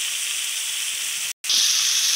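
Prawns frying in a pan make a steady, bright, close sizzle that holds level throughout, broken by a brief moment of silence before it resumes slightly louder.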